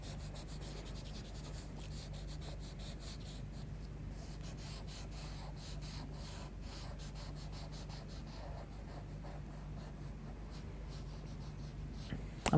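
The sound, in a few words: paper stump blending charcoal on paper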